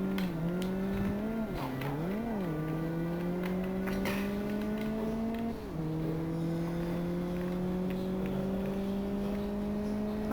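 Race car engine in the Live For Speed video game, revving up and down in wavering pitch sweeps before climbing steadily through gears, loud and continuous with faint tire squeal.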